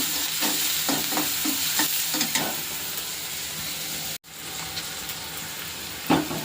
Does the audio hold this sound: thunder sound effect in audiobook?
no